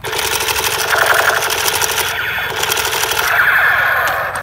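Rapid mechanical rat-a-tat bursts of a toy gun firing, loud and close, continuing steadily with a buzzing motor-like tone.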